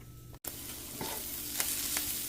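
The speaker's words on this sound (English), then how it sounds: "I'm going to go ahead and get that hamburger in here" Hamburger meat sizzles in a skillet with a continuous, close crackle and a few sharper pops. There is one brief dropout early on.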